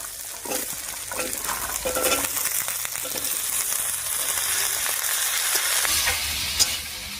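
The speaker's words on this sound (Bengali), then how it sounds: "পেঁয়াজ কুলি দিয়ে আলুর সঙ্গে খুব ভালো করে মিশিয়ে নিলাম।" Chopped onion stalks are stirred into potatoes frying in a pan, giving a continuous close sizzle with scraping and clinks of a utensil against the pan, no talk.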